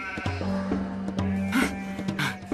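Sheep bleat repeatedly on a farm field, several wavering calls overlapping at close range with rustling movement around them.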